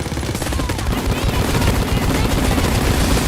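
Dense, continuous machine-gun fire from the Payday 2 video game rattles loud and close for the whole stretch, with a voice partly buried in the noise.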